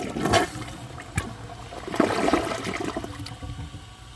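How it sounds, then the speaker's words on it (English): A Project Source high-efficiency toilet flushes during a performance test, a close gush of rushing water followed by gurgling and trickling as the bowl refills, with no talking. "I think this toilet has very bad bowl rinse, and this test is going to make me want to smash it."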